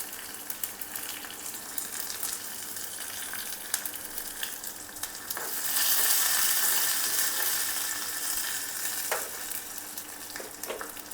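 Mustard seeds, curry leaves and green chili sizzle in hot oil, a steady crackling fry with faint popping that swells louder midway and continues close by, with no talk.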